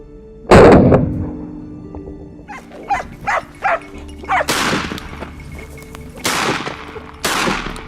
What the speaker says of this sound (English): The barking of the hunting dogs led me to a dense thicket.